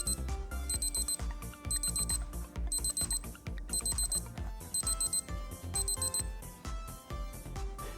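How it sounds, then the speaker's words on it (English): A Casio AE-1200WH digital watch sounds its countdown timer alarm, a bright electronic beep pattern repeating in rapid bursts about every half second, close and clear with nothing else audible. "So it has a 10-second 3 beep alarm."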